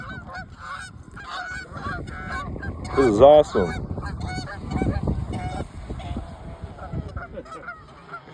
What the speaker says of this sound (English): Oh, there go the geese.